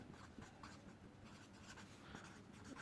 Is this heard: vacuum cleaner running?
no